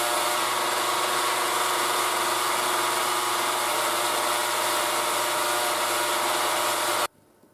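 A belt sander grinding down a piece of leather for an axe loop, a loud, steady, continuous motor whir with abrasive rasp that runs unbroken for about seven seconds, then cuts off abruptly.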